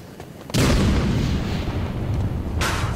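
A grenade blows up in the Batman: Arkham City video game: one loud, close blast rolls into a long rumbling decay, and a second sharp burst cuts in near the end, with no talk over it.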